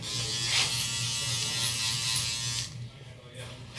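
A small electric shaver buzzes steadily during a barber's haircut on fine hair, with a constant close hum that drops off near the end while someone talks over it.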